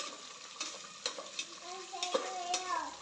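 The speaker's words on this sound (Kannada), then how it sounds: "ಸೊ ಇದು ಎಷ್ಟು ನೀವು ಬ್ರೌನಾಗಿ ಫ್ರೈ ಮಾಡ್ತೀರೋ ಅಷ್ಟು ಇದು ಬರುತ್ತೆ, ಟೇಸ್ಟಿಯಾಗಿ ಬರುತ್ತೆ" Onions frying in a pan for capsicum rice bath, a steady close sizzle with stirring scrapes and a few brief clinks, no talking.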